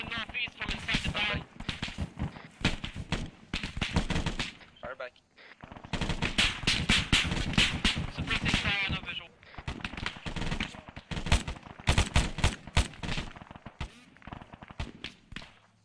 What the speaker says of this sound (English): Taking fire direction northeast from inside the barn.